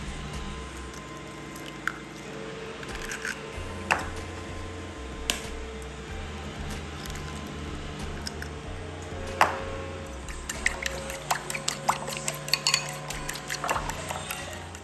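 Several eggs are cracked and whisked into a scramble for a spinach dish, with sharp taps, wet squishing and a quickening run of light clicks near the end, close by and with no talking.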